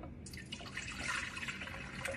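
Leftover dill pickle juice with garlic and herbs is poured into a bowl, giving a short, soft, close liquid splash and trickle with no talking.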